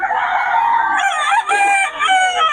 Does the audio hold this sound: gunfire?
no